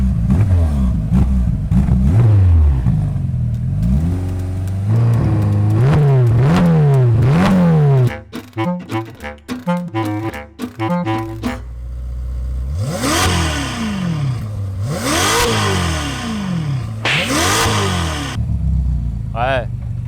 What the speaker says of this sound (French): on met un ou deux coups de gaz et puis on va entendre.